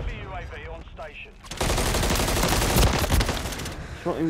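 Rapid bursts of automatic gunfire in Call of Duty: Modern Warfare III crackle loudly for a couple of seconds, following a brief spoken voice.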